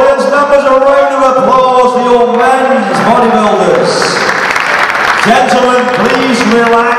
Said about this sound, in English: Audience members, a round of applause.